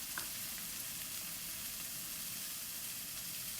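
Onions softening in hot oil for a mushy pea curry give a quiet, steady sizzle and crackle that runs without pause, with no talk over it.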